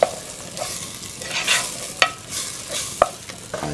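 A spoon stirs a pot of bean and chorizo stew with choricero pepper paste, giving soft scraping and wet shuffling with a few sharp knocks against the pot, heard close with no speech.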